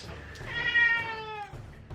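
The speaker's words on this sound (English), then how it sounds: "Okay, the dying cat has been let out." A cat lets out a single drawn-out, wavering meow that rises and then falls over about a second, fairly close and clear above faint room background, with no talking.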